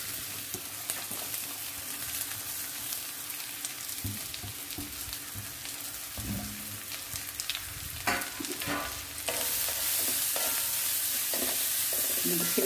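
Coconut paste frying with mustard seeds spluttering in a pan for pumpkin leaf thoran, a steady close sizzle with sharp pops, scraping stir strokes, and a louder hiss swelling in the last few seconds.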